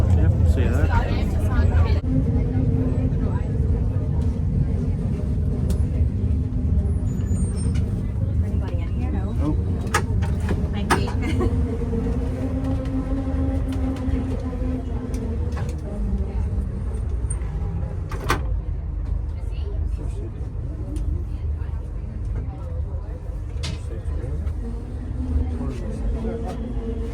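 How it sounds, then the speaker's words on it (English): Steady low rumble inside a moving train in Northern Ireland, bound for Lisburn, with faint clunks, rattles and occasional background voices. "I'm going to ride this train to Lisburn."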